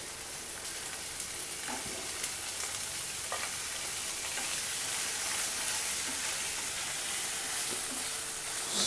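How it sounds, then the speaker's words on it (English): Paneer cubes fry in a hot pan for a paneer poppy-seed dish, giving a continuous close, loud sizzle and crackle with no voices. "put the paneer to fry"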